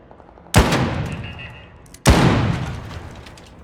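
Two loud, sharp gunshots in the video game Arc Raiders ring out about a second and a half apart, each followed by a long reverberant decay.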